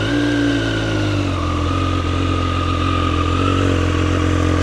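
A Triumph motorcycle engine runs close by with a steady, loud, even drone and a faint shift in pitch partway through.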